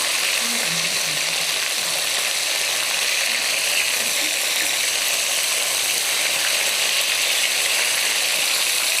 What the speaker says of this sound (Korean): 이렇게 게살이 빨개지고 나면은 한 2, 3분만 더 튀기면 돼요.